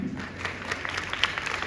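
An audience claps at the first day of a three-day annual religious festival. The applause is loose and fairly subdued, with scattered individual claps rising above a soft background of hands.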